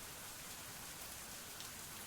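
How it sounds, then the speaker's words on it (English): Heavy rain falling outdoors, a dense continuous hiss of drops striking surfaces, steady and close throughout with no voices. "the rain continues to bear down on us"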